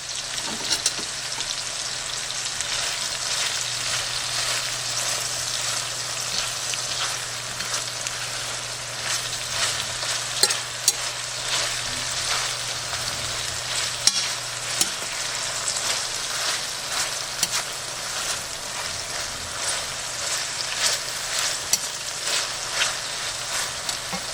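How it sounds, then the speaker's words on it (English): Mushrooms sauteing in a pan for freezer meals, a steady close crackling sizzle with soft stirring pops that runs on evenly with no talk. "While the mushrooms are over here sauteing"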